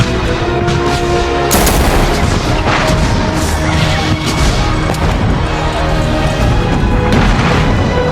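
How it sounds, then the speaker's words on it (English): Loud, dense battlefield gunfire from Civil War era muskets at First Manassas, with repeated volleys and crashing shots overlapping continuously as the 4th South Carolina and Rhode Island troops trade fire. "The 4th South Carolina opened fire, delivering a brutal volley into the ranks of the Rhode Islanders."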